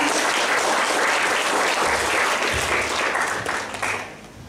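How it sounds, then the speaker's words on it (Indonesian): An audience at a school Indonesian-language oration contest claps for a participant, a full, steady round of applause that tapers off near the end without speech. "Boleh dong beri tepuk tangannya untuk peserta"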